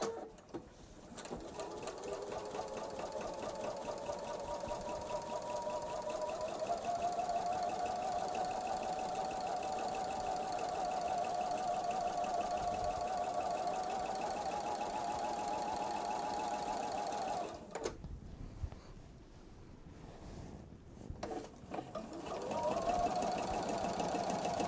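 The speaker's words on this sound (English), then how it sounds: "So now I go back here and I start sewing again." A sewing machine stitches a seam on a Jelly Roll fabric strip bag, running steadily and loud for about seventeen seconds, pausing briefly, then whirring up again near the end.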